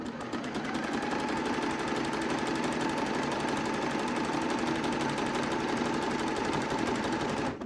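Sewing machine stitching around the turned-up hem of a raglan jersey top close to the edge, a steady continuous whirring run that holds evenly for the whole stretch, loud and near with no voices.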